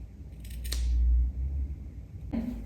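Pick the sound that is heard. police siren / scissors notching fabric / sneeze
scissors notching fabric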